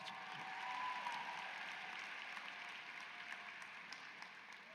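An audience at a university Black graduation and Kente ceremony gives a round of applause, with soft continuous clapping heard at a distance, quiet and steady across the whole stretch.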